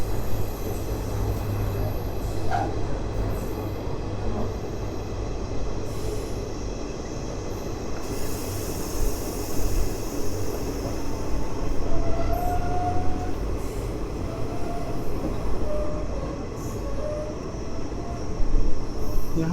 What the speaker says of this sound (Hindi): तो एक और ट्रेन आ रही है